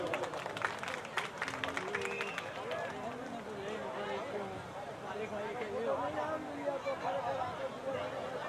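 A temple crowd at a Shri Ramji temple consecration festival claps steadily in welcome of the Das Hanuman idol, with babble and voices mixed into the sustained applause.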